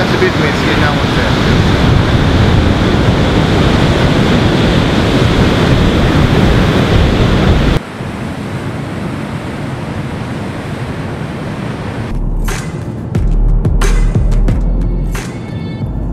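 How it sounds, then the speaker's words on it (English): Big surf rolling in at an empty surfing beach on the Great Ocean Road, a steady broad wash of breaking waves under wind, turning thinner and patchier halfway through as gusts buffet the microphone. "You get big waves here, but today it's a bit messy and no one's out."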